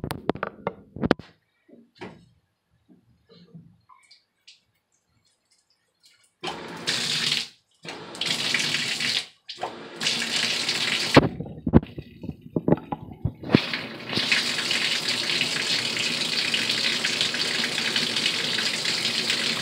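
Water gushes from a newly installed Danco universal tub spout in bursts, starting and stopping a few times with handling noises, then runs steadily and loudly.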